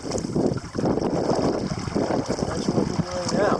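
A canoe is paddled through gusty wind on a Bloodvein River trip. Loud wind buffeting and low rumble fill the scene, with water swishing and splashing close by, and a voice speaks over it.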